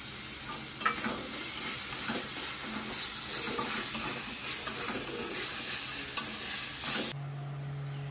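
Tomato ketchup, finely chopped tomatoes and spices stir-fried in a pan for chana masala, a constant close sizzle with soft stirring scrapes and a brief tone near the end.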